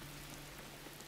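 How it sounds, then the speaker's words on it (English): Steady rain falling in the dark fantasy video game Warhammer Vermintide 2, a continuous even patter with a faint low hum beneath and no voices. "Why is it always raining again?"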